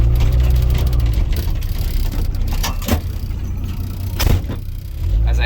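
A 1978 Ford F-150 Ranger Explorer pickup with a small carburetor and a mild, non-performance engine runs steadily nearby, a loud low rumble with a couple of brief revving swells and no talking.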